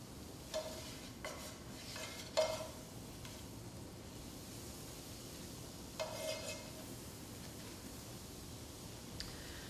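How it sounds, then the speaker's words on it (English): Flour being stirred into olive oil and butter in a pan to start a gravy, a soft continuous sizzle with occasional scraping and clicking of the spoon, quiet and close. "So I'm going to mix in this flour and then add 4 tablespoons of butter"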